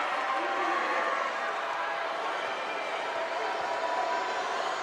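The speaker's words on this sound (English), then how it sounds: "A lot of noise in this U.S. Cellular Center." Steady crowd din fills an indoor arena during a 4A girls' state volleyball semifinal at the U.S. Cellular Center, a continuous wash of voices and noise with no clear peaks.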